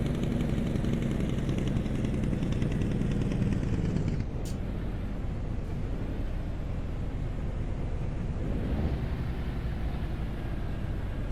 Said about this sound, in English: Got the engine brake hooked up here.